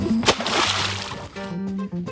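Snapping turtles let loose into a creek, a sharp splash up front followed by sloshing, churning water that runs steadily and close for about two seconds.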